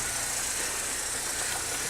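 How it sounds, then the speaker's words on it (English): A Saab 9-3 Vector 1.8T automatic car engine idles smoothly, giving a steady, even hum with a faint hiss, heard close and at a fairly low level with no voices. "The engine sounds absolutely spot on."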